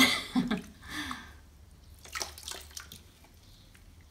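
Water is poured from a jug over a guinea pig sitting in a bath, giving soft splashing and trickling close by, with a brief louder pour at the start followed by gentle drips.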